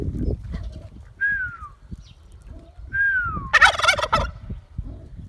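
A turkey gobbles loudly in a rapid rattling burst, preceded by a couple of high whistling bird calls over steady farmyard rumble.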